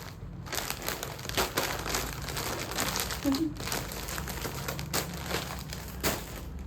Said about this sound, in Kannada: ಎಲ್ಲ ಮಡಚಿ ಮಡಚಿ ಮಡಚಿ ಮಡಚಿ ಕವರ್ ಒಳಗೆ ಹಾಕಿ